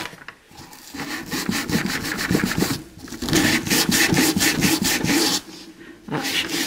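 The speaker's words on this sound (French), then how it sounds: "Donc je ponce vite fait comme ça les arêtes." Quick hand sanding along the edges of an upcycled scrapbooking lantern, a close, scratchy rubbing in bursts of rapid strokes with short pauses between passes.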